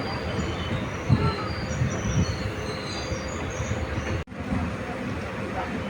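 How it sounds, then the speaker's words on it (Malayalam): The Guruvayoor Express rolls into Poonkunnam railway station in Kerala with a steady, close rumble of wheels on track and thin high squeals from the rails, broken by one sharp jolt near the end. "ട്രെയിൻ ഇപ്പോൾ പൂങ്കുന്നം റെയിൽവേ സ്റ്റേഷനിലൂടെ എത്തിക്കൊണ്ടിരിക്കുകയാണ്"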